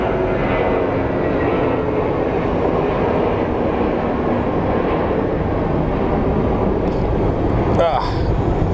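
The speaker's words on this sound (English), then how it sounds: "Let's watch the United takeoff." United airliner taking off at Phoenix Sky Harbor airport, a loud continuous jet roar with wind buffeting, while a voice talks over it and a brief sharp whine rises near the end.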